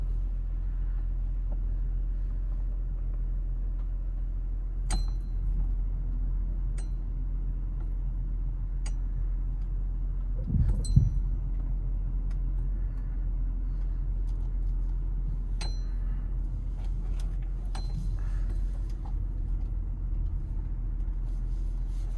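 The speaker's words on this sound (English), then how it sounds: "I'll just leave it on, go for a test drive." A 2011 car with a newly replaced EPAS rack and pinion on a neighborhood test drive, giving a steady low engine and road rumble with occasional faint clinks and a brief louder thump midway.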